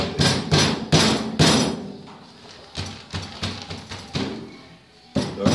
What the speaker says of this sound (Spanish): lo que hacemos es golpearlo para que coja presión con el puño